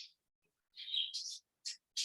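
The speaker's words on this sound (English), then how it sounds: "One of my birds is just talking up a storm." A pet bird chirps in a few short, bright tweets with gaps of silence between them, heard clearly and alone in a quiet indoor room.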